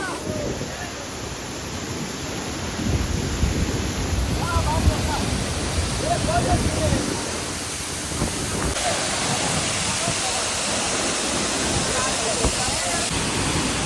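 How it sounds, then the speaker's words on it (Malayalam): A waterfall in Palakkad district roars as a steady, broadband rush of falling water, loud and continuous throughout, with a brighter hiss building toward the end. "വെള്ളച്ചാട്ടം അമ്പോ"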